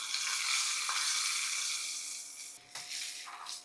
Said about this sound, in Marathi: आता ही फोडणी कोशिंबिरीवर.